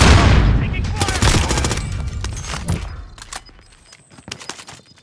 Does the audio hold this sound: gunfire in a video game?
yes